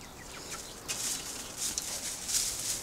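Chickens clucking softly at a distance, scattered short calls over a faint outdoor hiss.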